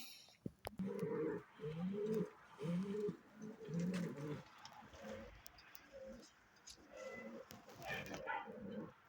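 Pigeons coo repeatedly in soft, throaty rhythmic phrases, close by, with a few faint chirps and brief knocks mixed in.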